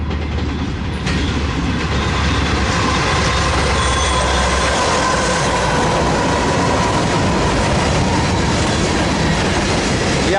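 A Z freight train rolls past at Daggett, a loud continuous rumble with clickety-clack of wheels over rail joints and faint wheel squeal, steady and close for the whole stretch with no talk.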